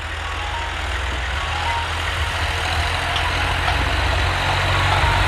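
A John Deere 5405 4x4 tractor hitched to a Dhanjal harrow idles nearby, a loud, steady low diesel rumble that runs without a break from start to end, with no talk over it.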